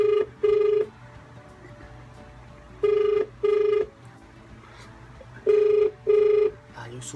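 A phone call ringing unanswered, three pairs of electronic ringback tones spaced evenly apart, clear and steady, with a low background murmur between rings.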